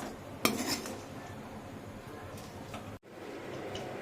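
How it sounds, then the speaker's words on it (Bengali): A pressure cooker lid being closed and locked, heard as a single metallic clank early on over a quiet background hiss of the kitchen. "এবার প্রেশার কুকারের মুখটা আটকে দেবো"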